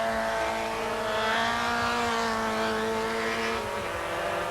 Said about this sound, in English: As the Vauxhall Astras of Lanfranchi, Craven-Jones and Ian Dudman go past the start and finish line